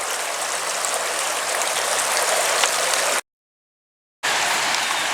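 A very clear river or creek flowing steadily, a dense close rush of water that fills the scene without a break except for one abrupt second of silence.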